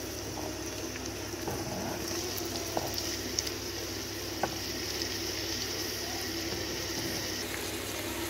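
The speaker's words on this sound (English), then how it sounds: "you need enough to fry the onions and other stuff" Onions frying in oil in a pan on high heat for tuna pasta, a steady soft sizzle and crackle throughout with occasional small pops, faint and continuous.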